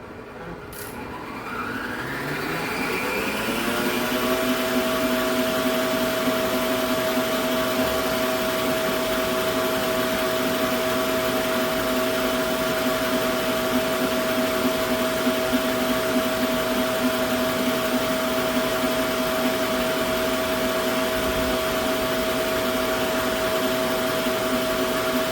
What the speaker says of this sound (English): Even though you use a stand mixer, there's a lot of side scraping.